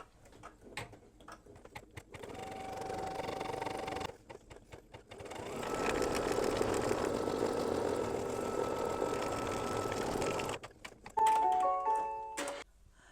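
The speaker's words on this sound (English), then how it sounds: "The first thing I'm going to do is the placement stitch, which is going to show me where to put the batting." An embroidery machine stitches a placement outline in steady mechanical bursts, with rapid rhythmic needle clatter that starts, pauses and resumes, followed by a few short electronic beeps at the end.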